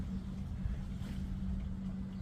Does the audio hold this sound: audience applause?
no